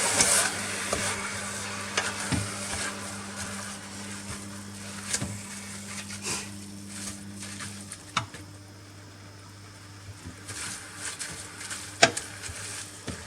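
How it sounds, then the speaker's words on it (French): Sauerkraut and onions are stirred in a pot, a low bubbling sizzle underneath with intermittent spoon scrapes and clacks against the pot, a sharper knock near the end, close and fairly quiet, no voices. "on a bien brassé donc la choucroute et les oignons"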